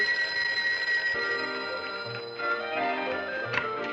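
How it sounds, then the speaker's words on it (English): An old-fashioned telephone bell rings steadily and fairly close, its tones repeating in bursts with faint background noise. "The phone hasn't stopped ringing all morning."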